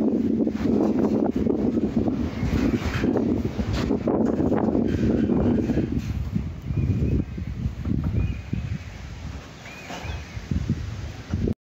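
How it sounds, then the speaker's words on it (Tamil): Strong gusts of wind buffet the microphone on a hilltop by a temple, roaring loudly at first and then easing into uneven, fluttering bursts, with no one speaking. "இன்னைக்கு இதோட செம காத்து வெயில் காத்துருச்சு"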